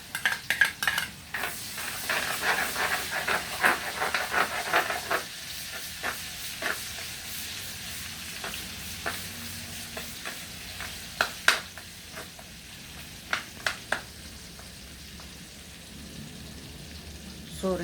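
Chopped onions going into a hot pan for pancit sotanghon, a steady close sizzle with scattered stirring clinks and scrapes, busier at the start and then settling into a softer continuous frying hiss.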